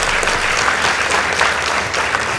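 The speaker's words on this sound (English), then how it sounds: "Please give them a round of applause." Dense studio audience applause at a school debate competition, loud sustained clapping from many hands for the whole stretch, with no voice over it.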